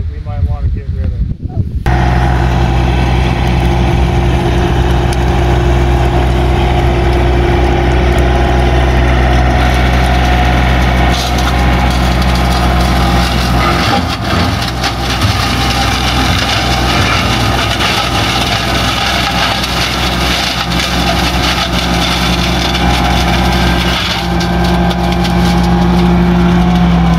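A John Deere tractor running a Frontier FL1061 61-inch flail mower chews through small trees on rough terrain: a loud, constant engine drone with rumbling, crunching bursts, heard close throughout.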